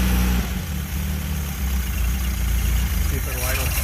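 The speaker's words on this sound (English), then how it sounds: "See if it'll idle. I don't think it'll idle." A car engine with a sticking choke idles roughly and loudly right up close, a steady low rumble throughout with a voice talking over it.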